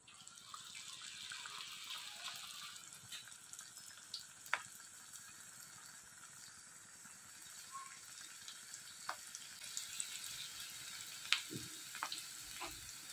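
Small pieces of pakoda batter fry in hot oil with a soft, continuous sizzle and bubbling, broken by occasional faint clinks and stirring sounds. The frying stays steady and fairly quiet over about thirteen seconds.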